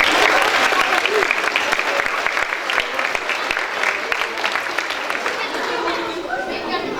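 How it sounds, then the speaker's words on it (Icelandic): A school festival audience applauds the seventh grade's performance, with dense, continuous clapping mixed with crowd chatter that slowly thins toward the end. "Gefum við gott klapp fyrir það."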